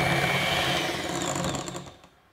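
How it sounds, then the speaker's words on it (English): An electric hand or stand mixer beating red velvet cake batter ingredients, a loud, steady whirring hum for about two seconds, then winding down and stopping. "with our hand mixer or stand mixer, let's go ahead and beat these two together until they're really well blended"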